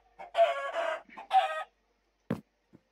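A chicken in Minecraft gives several loud, close clucks in quick succession, followed by a short pause and a couple of quieter clicks.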